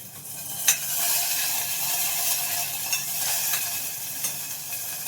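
Dal frying in a pan with green chillies and curry leaves, a steady loud sizzle with faint stirring clinks, no voices.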